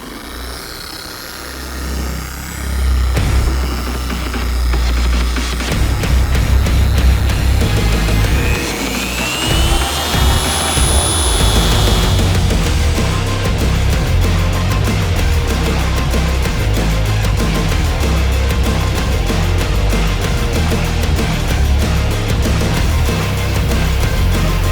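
Electric polisher running on its highest speed setting over chrome and stainless metal, a steady loud whirring drone with a high whine that rises and sweeps briefly, holding continuously throughout with no talk.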